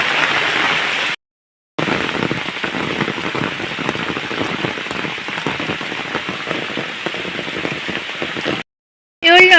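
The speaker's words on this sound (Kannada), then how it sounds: "ಮಳೆ ನಿಲ್ತಾ ಇಲ್ಲ, ಸುಮಾರು ಹೊತ್ತಾಯಿತು." Steady, heavy rain pours onto surfaces nearby, a loud continuous patter broken only by two short silent gaps, with no voices.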